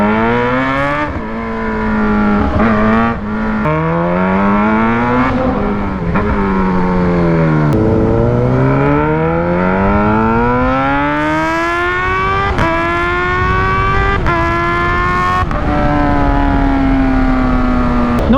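A Kawasaki ZH2 motorcycle fitted with a full titanium exhaust revs repeatedly up and down, its engine note climbing and falling in loud, close bursts with no voices.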